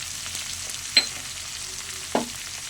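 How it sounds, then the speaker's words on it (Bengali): Spice powders, tomato and salt fry together in a pan with a low steady sizzle, broken by two sharp scraping clicks of a spoon against the pan. "টমেটো, স্বাদ মতো লবণ, সব কিছু একসঙ্গে ভালো করে কষে নেব।"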